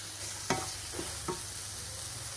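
Almonds and cashews are stirred into moong dal halwa in a pan, giving a few soft scraping stirs over a low steady sizzle.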